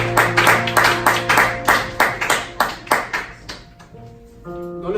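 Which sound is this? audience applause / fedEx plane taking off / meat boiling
audience applause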